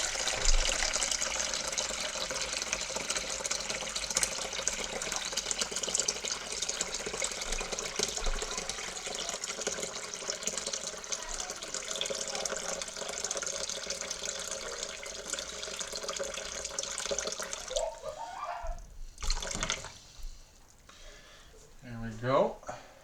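Lukewarm tap water runs steadily from a faucet into a container for a sourdough mix, a loud continuous rush that cuts off near the end, followed by brief handling noises.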